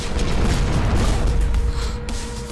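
In the tactical video game Strain Tactics, a cannon fires with a loud, heavy boom that rumbles on through the short clip alongside gunfire and battle noise.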